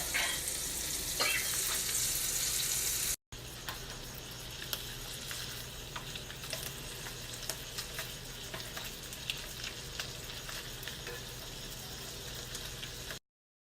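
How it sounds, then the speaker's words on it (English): Keto meatballs sear in a pan with a dense, continuous sizzle and crackle, close and steady, briefly cutting out once before resuming without talk. "once I put all of these in, they're going to sear on each side"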